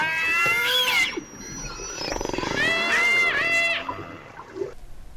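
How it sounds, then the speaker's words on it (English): Orca whale calls recorded near Alaska: rising and falling whistles and harmonic squeals, loud and layered over a watery underwater hiss, with pulsed buzzing in the middle. "Listen to the sounds that are made by these orcas that live near Alaska."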